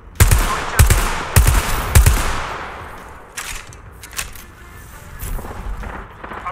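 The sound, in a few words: gunfire from the video game Apex Legends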